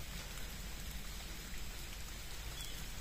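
Rain falls on a road in Okinawa, an unbroken, fairly soft wash of drops with a low rumbling undertone and no speech.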